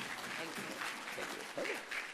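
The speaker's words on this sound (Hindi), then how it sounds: "चलो इसके लिए ताली बजा दो भाई" An audience at a gathering on self-reliance and health claps briefly, a faint, steady patter of many hands with voices mixed in.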